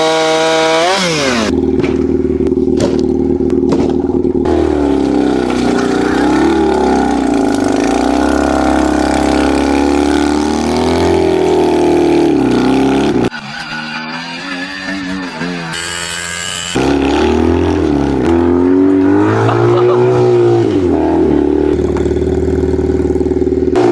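A utility quad ATV engine revs hard with a slipping clutch, a loud, continuous buzzing roar that surges and sags in pitch, briefly dropping away before climbing again, close up throughout.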